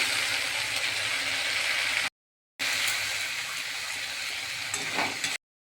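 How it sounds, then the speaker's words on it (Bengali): Water from rinsing a bowl is poured into a pan where ginger, cumin and melon seeds are frying for a vegetarian rohu fish curry. It makes a steady, loud hissing sizzle in two stretches split by a short gap, with no talk. "দিয়ে দেবো বাটি ধোয়া জলটা।"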